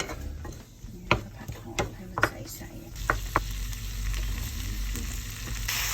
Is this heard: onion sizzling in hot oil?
yes